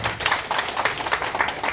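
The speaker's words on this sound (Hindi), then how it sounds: "इनके लिए एक जोरदार ताली होनी चाहिए।" An audience claps to welcome a guest at a ceremony, a steady, dense patter of many hands that holds evenly from start to finish without voices on top.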